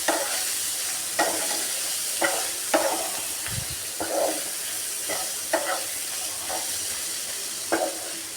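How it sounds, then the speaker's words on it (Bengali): Spices, turmeric and red chili powder with salt and a little water, are stir-fried in a pan, giving a steady soft sizzle broken by regular scraping stir strokes about once a second, close and fairly quiet, with no talk. "একটু জল দিয়ে ভালো করে কষিয়ে নেব।"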